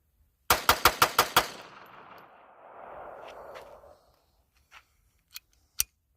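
An old Jennings auto-loading pistol fires six rapid shots in a quick even burst, loud and close, followed by a rustling tail and a few sharp clicks and clacks.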